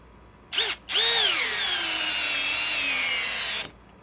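A Milwaukee M12 Fuel cordless drill, run in drill mode at speed 2 straight from its battery without an adapter, whirs in two short bursts before settling into one steady, loud whine that stops abruptly.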